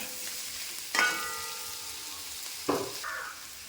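Onion, garlic, ginger and shallots frying in oil over a medium flame: a steady, soft sizzle with two sharp scraping stirs of a utensil against the pan, no voices.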